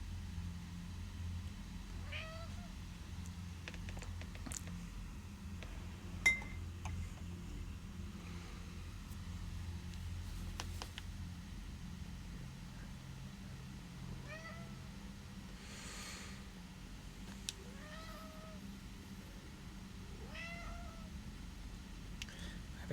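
A house cat meows repeatedly and insistently, several drawn-out, rising calls spaced through a quiet room with a low background hum, moderately close and clear.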